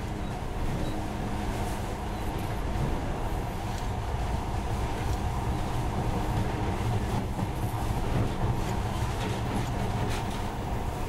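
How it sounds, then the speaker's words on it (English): A monorail train in the video game Metro Last Light rumbles steadily along with a constant wash of rolling noise and faint rattling, continuous and fairly close throughout. "In the past, trains were ordinary things, but now, this monorail seems magic"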